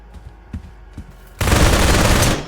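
Sustained burst of rapid gunfire aimed at a riot shield in the Roblox tactical shooter Operation One, loud and dense for about a second, after a few soft thuds and footsteps.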